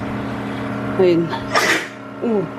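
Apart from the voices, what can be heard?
sneeze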